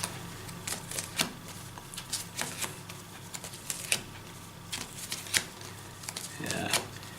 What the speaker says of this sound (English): Just a quick power shuffle as well.